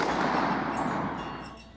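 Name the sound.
Colt Lawman .357 revolver firing double action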